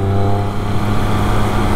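A 2012 Triumph Speed Triple 1050 motorcycle's exhaust drones steadily and loudly while riding, a constant engine note with strong low harmonics and no break.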